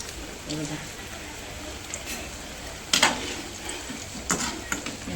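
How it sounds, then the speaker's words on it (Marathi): Coriander vadi fry in hot oil with a steady, soft sizzling hiss beneath a woman's speech, punctuated by a few brighter crackles and small utensil taps. "इथे तळते वडी"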